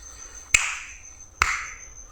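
Two crisp finger snaps about a second apart, close and clear, set off a homemade transistor clap switch, with a faint steady high whine underneath.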